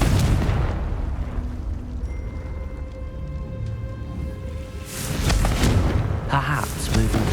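A Confringo fire spell blast in Hogwarts Legacy, a deep booming burst at the start, then a sustained rumble with ringing tones, and a second strong burst near the end, while a voice speaks.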